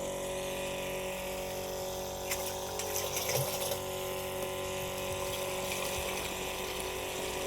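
A small pump feeds dissolved soluble fertilizer into a drip irrigation line in a farm plot, giving a faint, steady mechanical hum with water flowing, plus a brief clatter partway through.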